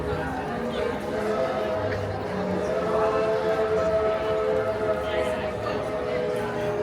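A train rumbles past nearby at Walt Disney World's Magic Kingdom with a sustained tonal hum and screech, loud and continuous, with a voice faintly underneath.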